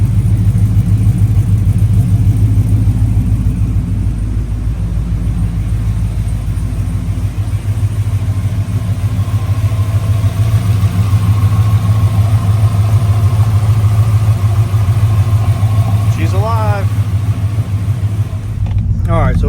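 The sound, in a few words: Whipple supercharged Chevrolet Silverado truck engine running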